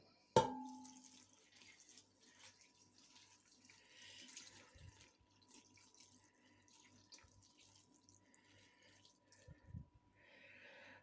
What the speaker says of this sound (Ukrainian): І заливаю двома літрами холодної води